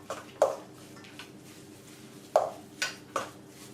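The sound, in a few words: mixing mashed bananas in a bowl with a small spoon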